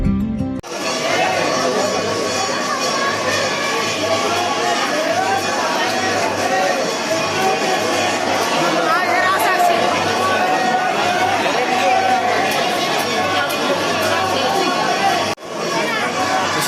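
Crowd chatter fills the air at Chittorgarh fort in Rajasthan, a steady babble of many overlapping voices close by that carries on without pause.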